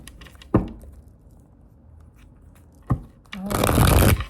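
Tarot cards are shuffled by hand near the end as a brief, close, papery riffle, after two soft taps in an otherwise quiet room.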